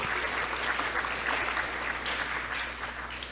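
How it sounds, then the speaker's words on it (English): Audience applause fills a school's 2021 11th grade academic achievement awards ceremony, a steady, dense clapping from a crowd that carries on evenly throughout without pause. "we definitely have to give a round of applause for our ROTC for the presentation of the colors and our choir"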